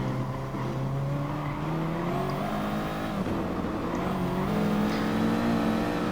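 Race car engines roaring steadily on the Nürburgring in GT Sport, a sustained droning whine with shifting pitch as cars run close together and one Aston Martin goes off, continuous and loud with no talk.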